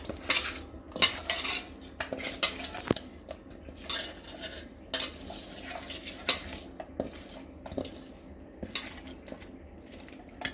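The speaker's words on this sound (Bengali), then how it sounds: "এবার মাছটা ভালো করে মেখে নিচ্ছি।" Hilsa fish pieces being hand-mixed with chili powder, salt and turmeric in a bowl, giving irregular wet squelches and sharp clinks of metal against the dish, fairly close and steady with no talking.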